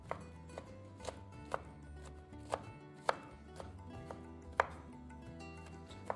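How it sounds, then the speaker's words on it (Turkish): Onion being chopped into small pieces for an Anatolian home-style dish: about a dozen crisp, close knife strikes on a cutting board in an uneven rhythm, with no talking. "Küçük küçük soğanımızı hazırlayacağız."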